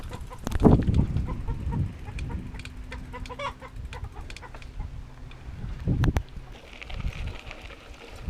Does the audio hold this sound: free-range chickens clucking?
yes